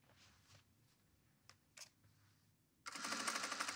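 A sewing machine stitches through a suit jacket lining, starting up in a loud, rapid, close whir after a few soft handling taps.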